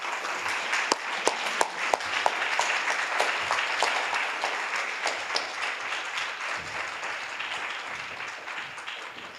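A conference audience applauds to welcome a keynote speaker, a dense steady wash of many hands clapping from a fair distance, sharper individual claps standing out early and the applause fading slowly over about nine seconds.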